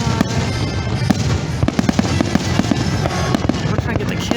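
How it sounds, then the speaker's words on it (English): Fireworks over the Magic Kingdom seen from the Polynesian Resort beach on a December night pop and crackle in a dense, continuous barrage of sharp bursts. People's voices are mixed into the noisy crowd atmosphere. "Can't hear it over the fireworks."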